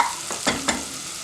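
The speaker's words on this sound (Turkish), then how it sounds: "Şimdi bir tane soğanımızı atıyoruz. Ve hafif pembeleşene kadar kavrulmasını bekliyoruz." A chopped onion sautés in melted butter, a close sizzle with two quick stirring scrapes in the middle of a short burst.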